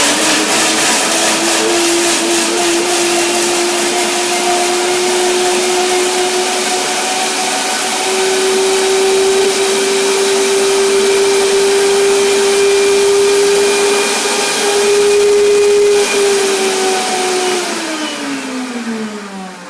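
A blender motor whirs steadily and loudly while blending spicy cashews, its pitch slowly climbing, then dropping as it winds down near the end.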